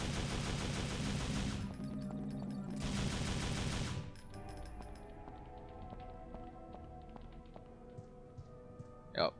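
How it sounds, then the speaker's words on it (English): Gunfire in Devil May Cry as spiders are shot: loud, dense bursts of rapid shots over the first four seconds alongside game music, then quieter game sounds with a single sharp shot near the end. "We're going to shoot the spiders here."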